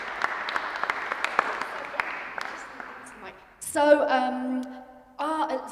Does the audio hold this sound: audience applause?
yes